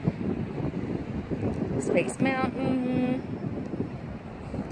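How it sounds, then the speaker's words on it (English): Wind buffets the microphone with a constant low rumble high up on a resort tower balcony while a person speaks and a brief whistle-like tone sounds in the distance. "it's rather windy up here today"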